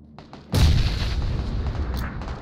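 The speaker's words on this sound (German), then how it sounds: "Der versucht eine Granate hierher zu schmeißen. Ja, noch mehr Granaten." A grenade goes off in the battle royale game PUBG, a sudden loud boom after a few faint knocks, then a long rumbling roar that lingers to the end with no talk.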